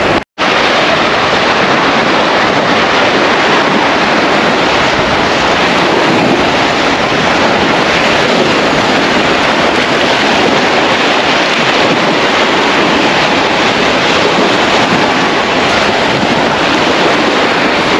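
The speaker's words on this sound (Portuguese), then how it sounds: "hoje tá com vento aqui na praia, então tem bastante onda hoje a lagoa" Steady roar of wind-driven waves washing onto a beach of Lagoa dos Patos at Arambaré, Brazil, loud and continuous, with gusty wind buffeting the microphone throughout.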